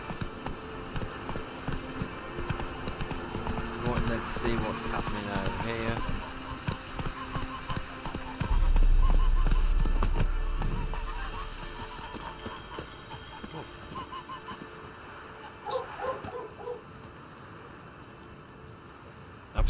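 Horse hooves clip-clop in The Witcher 3 played in VR, a run of close hoof steps, then a low rumble and further scattered clops, while someone talks over part of it.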